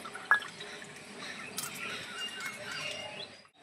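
Fresh lemon juice strained through a kitchen sieve, making soft, faint drips and a light liquid trickle in a quiet room, with one small sharp drop near the start.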